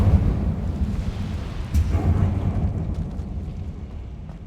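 In the Hogwarts Legacy video game, a fire spell is cast as a low rumbling whoosh over a steady roaring bed. A brief crackling burst sounds near the middle, then the roar fades gradually.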